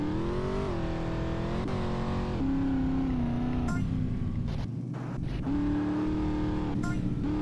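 Game car engine from GTA San Andreas, a steady droning hum that shifts pitch as the vehicle speeds up and eases off, close and continuous throughout with a brief dip midway.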